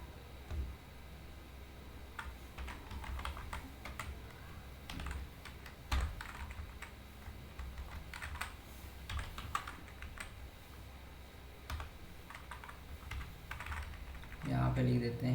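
Typing on a computer keyboard while writing C code with break and continue statements, a steady run of close, crisp key clicks with brief pauses, and a louder burst of keystrokes near the end.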